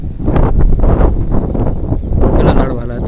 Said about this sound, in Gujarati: નકર તો પવનનો જ અવાજ આવે છે ને